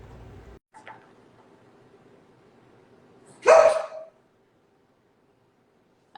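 A dog gives a single sharp bark, fairly close, in an otherwise quiet room after a faint low murmur.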